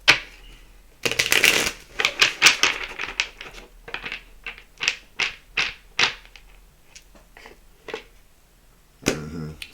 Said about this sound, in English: when I split the deck